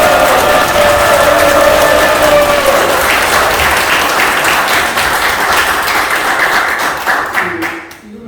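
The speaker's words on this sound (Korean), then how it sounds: "여러분 고맙다는 의미도 포함해서 함성 박수를 보내고 시작하겠습니다." A seated audience at a political academy graduation ceremony gives a loud, sustained round of applause mixed with cheering. The dense clapping runs steadily, then tapers and thins out near the end.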